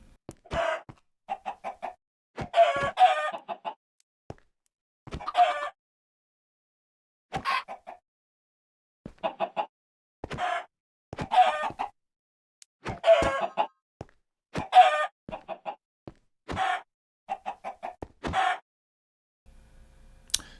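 Minecraft chickens cluck in short, repeated bursts of video game sound effects, spaced irregularly across a long stretch with silent gaps between them.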